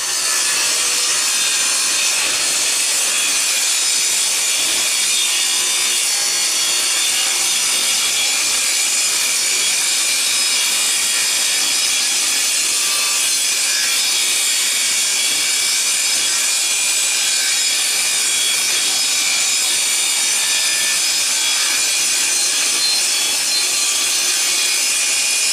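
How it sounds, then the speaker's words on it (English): A table saw cuts wood at a 45-degree bevel, producing a loud, steady, high-pitched grinding whine that runs unbroken throughout, close up with no voices. "I'm going to go get this table saw set up, cut this to a bevel at 45"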